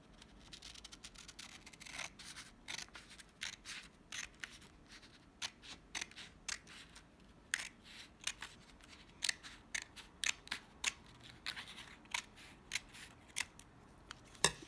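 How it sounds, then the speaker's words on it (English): Scissors snip through a paper strip along a drawn line, a long run of crisp, close cuts coming in irregular clusters, faint and alone in a quiet room. "Now I'm going to cut my line"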